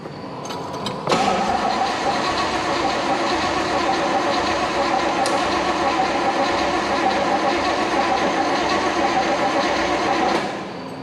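A carbureted 383 stroker V8 in a Chevy Nova cranks and catches at about one second, then runs as a loud, steady, rough idle near the microphone for roughly nine seconds before cutting off, with no talk.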